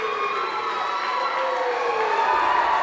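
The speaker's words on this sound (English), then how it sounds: "Listen to this crowd, Kevin." A wrestling event crowd roars in a sustained, dense wall of cheering and shouting, loud and continuous throughout without a break.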